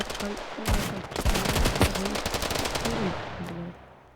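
Rapid bursts of automatic gunfire from the video game Standoff 2, loud and dense with sharp repeated cracks, then a few scattered shots as it tapers off.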